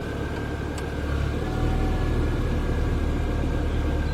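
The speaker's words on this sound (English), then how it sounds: "Now I heard a different pitch in the engine." A 2002 Volkswagen Beetle 2.0 engine, recently repaired after a head gasket job, runs steadily up close with the air conditioning switched on, its hum shifting slightly in pitch partway through, with no talk.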